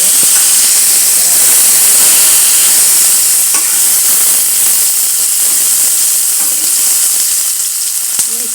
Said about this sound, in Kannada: ಎಣ್ಣೆ ಸಿಡಿಸಿಟ್ಬಿಟ್ಟು ಹುಷಾರಾಗಿ ಮಾಡ್ಕೊಳ್ಳಿ